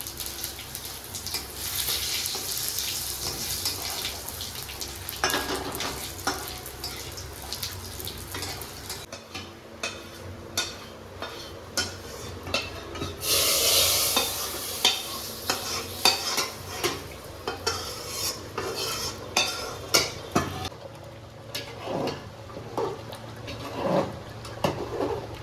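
Whole cumin, dried chilli and bay leaves sizzle and fry in hot oil for Bengali khichuri while a utensil stirs and scrapes the pan in irregular bursts, close up, with no talk over the cooking.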